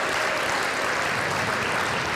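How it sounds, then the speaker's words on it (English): Audience applause for award winners at a travel and tourism industry awards ceremony, a steady, dense wash of clapping that fills the whole stretch without a break. "how about a round of applause for all of our winners"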